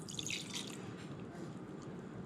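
Fermented tomato seeds and liquid poured into a small strainer over a bowl, a close, steady wet trickle and splatter for a couple of seconds.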